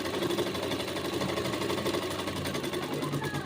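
A sewing machine stitches a suit with a continuous, evenly pulsing whir throughout, close and alone.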